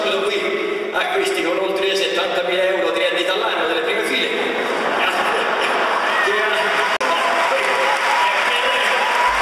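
A large audience at an event in Arezzo claps steadily for the whole stretch, a dense and loud wash of applause with a voice speaking over it.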